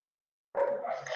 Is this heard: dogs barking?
yes